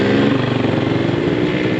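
A Yamaha FZ25 motorcycle idles close by just after starting, its engine a loud, steady throb that stays even throughout.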